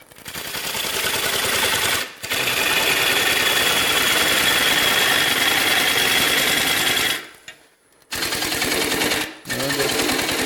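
A wood lathe turns a cracked, distressed wooden platter as the tool removes wood, giving a loud, continuous roaring chatter that breaks off briefly a few times before resuming.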